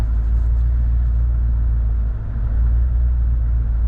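A car engine idles steadily through its warm-up, a continuous close, loud low rumble with a brief dip midway and no voices.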